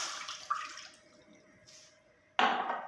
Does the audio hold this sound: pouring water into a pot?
yes